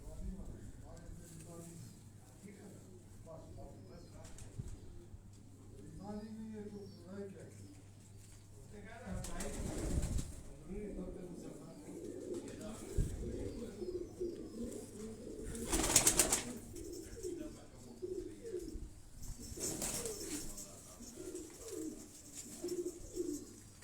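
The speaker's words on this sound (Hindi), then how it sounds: "टेडी कबूतरों में से है। टेडी कबूतर।" Teddy pigeons coo in repeated low rolling calls, fairly close, under intermittent conversation between men.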